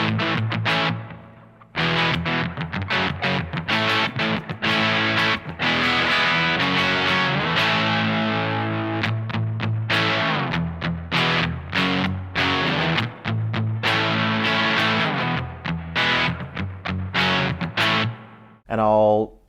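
Electric guitar played through a Vahlbruch Pipeline spring reverb pedal, with the springs on a very short setting and darkened repeats, ringing chords and notes sustaining loud and continuous before stopping abruptly near the end.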